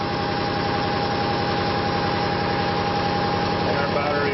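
A ReGen-X generator motor spinning at steady speed while charging batteries, producing a continuous even hum and whir with fine rapid rhythmic pulsing, close and uniform throughout.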